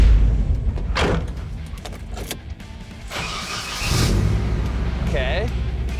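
A car fitted with a custom turbo kit cranks and fires up, with a few sharp bursts followed by a rougher, louder idle settling in close by.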